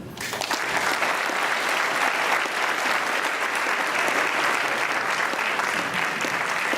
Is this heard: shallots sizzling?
no